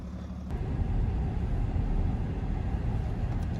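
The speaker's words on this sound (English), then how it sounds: "let's jump inside the GLE and drive out" A 2020 Mercedes-Benz GLE 400d Coupe diesel pulls away, heard from inside the cabin as a low, steady engine and road rumble that swells after a brief click and holds evenly, with no talking.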